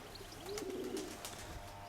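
A pigeon at a dovecote gives a soft, faint coo: one short rising and falling call over quiet background hiss, with a few light clicks around it and no voices.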